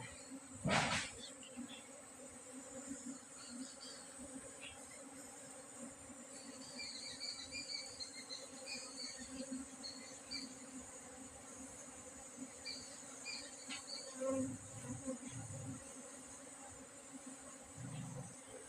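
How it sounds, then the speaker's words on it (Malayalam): Honeybees buzz as they enter a wooden hive box, a soft continuous drone with scattered higher buzzes from individual bees, one sharp knock near the start and a few low thumps later, no speech. "ഈച്ചകളെല്ലാം ഇതിനകത്ത് കയറിയിട്ടുണ്ട്"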